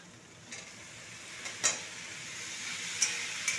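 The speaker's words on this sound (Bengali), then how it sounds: "পেঁয়াজ শাকটাকে একটু ভালো করে নেড়ে নেব" Onion greens and potatoes fry in a pan with a soft, steady sizzle, while a few sharp stirring scrapes stand out close by; no voices.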